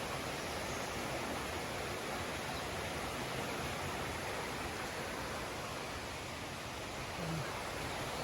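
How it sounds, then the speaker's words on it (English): Small waterfalls trickle down beside a mountain trail near the Blue Ridge Parkway after heavy rain, a steady, even rush of water that runs unbroken throughout at moderate, slightly distant level. "Nice little waterfalls up there trickling down"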